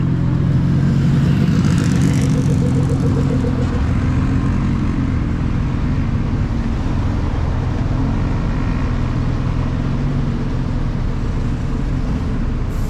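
A luxury car's engine rumbles steadily in street traffic in Bukit Bintang, Malaysia, a loud continuous low drone that swells slightly early on.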